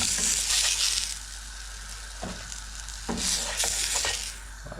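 Pork faggots sizzle as they fry in a pan inside a Dutch oven, a steady close hiss with a few brief clatters and knocks as they are arranged.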